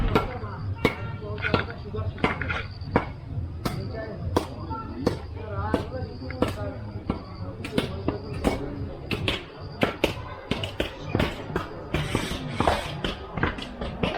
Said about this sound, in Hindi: यहाँ चिकन वगैरह कट रहा है।